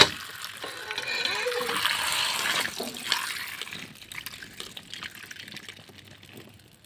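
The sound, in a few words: olives being washed in water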